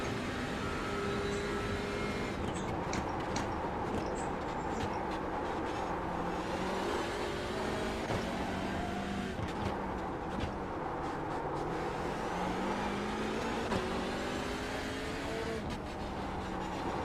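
A TCR race car engine racing around the Long Beach street circuit in iRacing, droning steadily and loudly for the whole stretch as the pitch rises and falls through gear changes, with occasional clicks and knocks on top.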